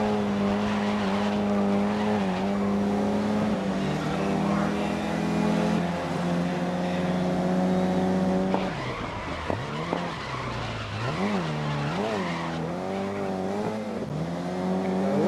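Race cars roar around the track in the GRID racing video game, a sustained droning engine note with tires skidding and squealing as revs rise and fall through corners, loud and continuous under occasional commentary.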